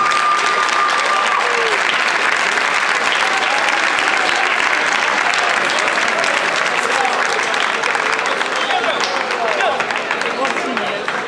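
Sustained audience applause greets a youth football team at a club field inauguration, dense steady clapping from a large crowd filling the whole stretch without a break.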